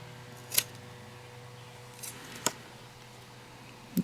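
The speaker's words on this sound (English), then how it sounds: "I'm going to cut this piece off." Scissors cutting a piece of paper during card-making die work, producing two or three faint, isolated snips spaced apart over a quiet room hum, with no voices.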